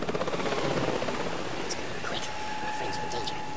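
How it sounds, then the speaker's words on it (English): A helicopter in the video game DeadLight, heard as a steady rotor drone with a faint pulsing beat, moderately loud, with a voice talking over it. "That's the helicopter chasing my friends!"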